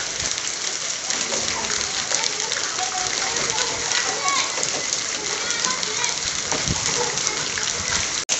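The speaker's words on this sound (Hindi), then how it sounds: "ये भाई आप बूंद समझ रहे होंगे, बूंद नहीं है ये, ओले पड़ रहे हैं, देखो सीधे ओले, कोई भी बूंद नहीं है" A heavy hailstorm in Bharatpur pours down in a dense, unbroken clatter of hailstones hitting surfaces, loud and constant throughout, with voices faintly mixed in.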